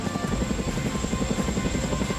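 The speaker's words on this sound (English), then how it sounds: "this is an amazing sound of Chinook helicopter" An Indian Air Force Chinook helicopter during a reusable launch vehicle lift test, its rotors making a steady loud rapid thudding drone with heavy low rumble and no pauses.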